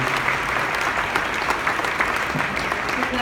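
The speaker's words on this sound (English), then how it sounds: "A big round of applause." A conference crowd applauds the panelists after a wellness innovation panel at Foundermade, with dense, even clapping at moderate volume that holds steady for a few seconds.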